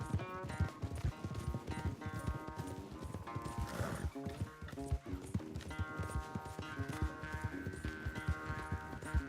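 Horses gallop in a race in Red Dead Redemption 2, their hooves pounding in a fast, steady rhythm throughout, close and loud, with game music tones layered over them and a brief whinny midway.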